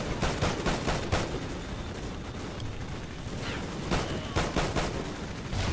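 Gunfire in Call of Duty Ghosts comes as rapid bursts of automatic shots, loud and close, in clusters near the start and end with a rumbling battle din between.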